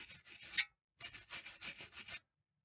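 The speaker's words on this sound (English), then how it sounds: "I'm gonna give it a good clean with my wire brush" A wire brush scrubs hard against rusty bolts during a 2011 Audi A5 S-line wheel bearing replacement, in two bursts of rapid, raspy back-and-forth strokes, close and harsh, separated by a brief pause.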